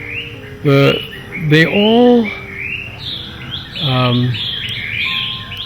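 A thrush sings a varied series of clear, rising and falling phrases, loud and close, with short pauses between them.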